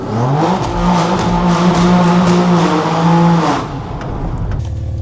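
A modified BMW G8X M3 engine drones steadily, revving up and easing off as the car drives, loud and close throughout.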